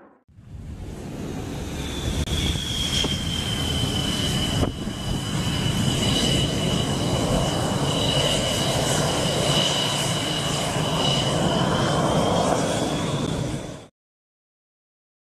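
A MiG-29 fighter jet engine roars as a steady, broad, loud rush with a faint high whine running through it, holding for about fourteen seconds before cutting off abruptly.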